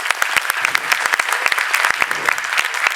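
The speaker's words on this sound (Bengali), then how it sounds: "সবার জন্য একবার জোরে হাততালি প্লিজ" Audience clapping at a Bengali stage play performance, a dense, steady round of hand claps from a crowd, loud and continuous throughout.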